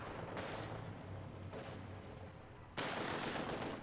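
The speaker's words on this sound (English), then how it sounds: "The G43 is opening up on the guards rifle, doing some damage." A G43 rifle fires in a Company of Heroes 2 battle amid dense gunfire, distant-sounding rapid shots layered under a constant rumble, jumping louder and brighter as a fresh burst erupts near the end.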